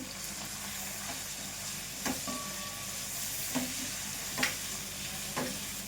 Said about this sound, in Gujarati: તેને હવે આપણે વઘારી દઈશું